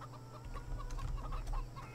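Chickens clucking in the farming game Farming Simulator 17, a steady run of short repeated clucks over a low constant hum of farm ambience, no talking.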